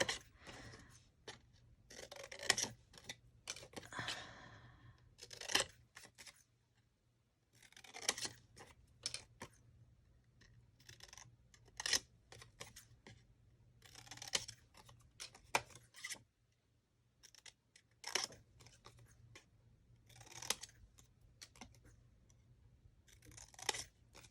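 Scissors snipping around the outside of a paper star for a December Daily craft page, close and crisp, in repeated bursts of short cuts separated by brief pauses.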